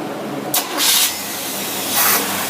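A car engine fitted with an Edelbrock carburetor starting in winter: a loud cranking burst, then the engine catches and runs with a steady roar, surging again near the end.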